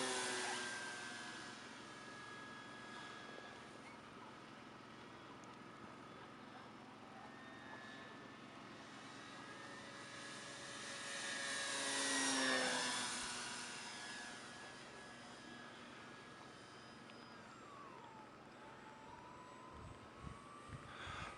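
Dynam PT-17 biplane RC model flying overhead, its small electric motor a steady whine that rises as it passes close, then fades and drops in pitch as it moves away.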